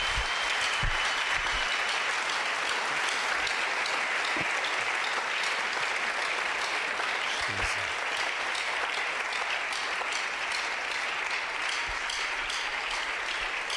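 A church congregation applauds the Lord during a bilingual French and Swahili service, with sustained, dense clapping from a large crowd that stays steady and fills the room for the whole stretch.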